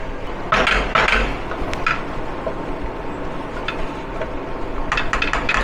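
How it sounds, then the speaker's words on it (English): Metal utensil scrapes and clinks against a pan at a steady pace, stirring chicken patty filling, with soft sizzling-like noise underneath, close up. "Okay, we give it a good stir."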